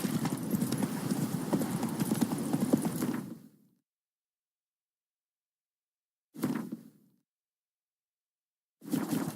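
Horse hooves clip-clop steadily and loudly for about three seconds as Roach, the horse in The Witcher 3 video game, trots along, then two brief bursts of hoofbeats follow after long silent gaps.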